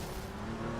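Race cars from a McLaren and a Porsche roar past in a sim racing game at Zolder circuit, a steady dense engine drone with no gaps, loud and close for under a second.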